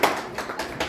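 Audience applause at a ghazal club cultural evening in a hotel, a short burst of scattered hand claps with a few distinct sharp taps, fairly faint and brief.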